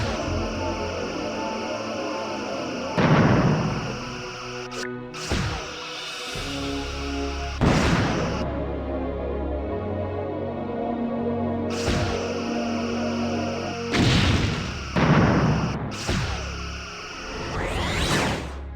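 Quad photon torpedoes launch and detonate in a Star Trek Bridge Commander space battle, a series of loud whooshing bursts and booms roughly every few seconds over a continuous starship engine hum.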